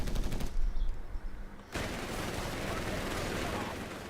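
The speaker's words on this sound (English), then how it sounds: "MG42 now opening fire against a 30 caliber building and won't do too much" An MG42 machine gun fires in Company of Heroes 3 in a loud, continuous rattling burst that runs through most of the moment, after a brief gap of quieter sound near the start. No one talks over it.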